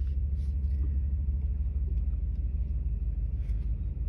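A 2014 Ford F-150 Raptor SVT truck pulling away, heard from inside as a steady low engine rumble with road noise, moderately loud and continuous with no talking.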